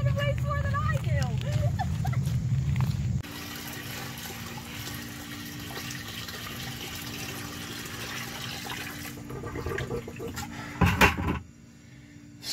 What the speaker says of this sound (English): let's go flush the toilet